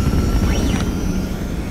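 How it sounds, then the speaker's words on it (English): Jet boots fire in XCOM: Enemy Within with a loud, close, steady roaring whoosh and a brief rising-and-falling whine, heard alone. "firing jet boots."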